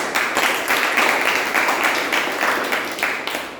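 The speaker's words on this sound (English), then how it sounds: "can we have another big round of applause?" An audience at a Toastmasters meeting applauding, a dense, sustained round of many hands clapping at a lively, even pace, fairly loud and close, tapering slightly toward the end.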